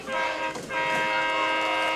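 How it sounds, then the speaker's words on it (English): A train horn blares at a high school football game, a loud sustained multi-tone blast holding steady for the full two seconds with the crowd noise buried beneath it. "Amesbury train horn sound going off"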